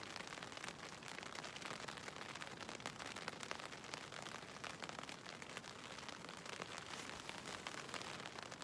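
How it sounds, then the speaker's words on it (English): Rain pattering down on a hammock camp in a coastal provincial park at night, a dense, even hiss of drops striking close by, continuous and unchanging throughout. "the rain has begun at 9:15. It's supposed to pour."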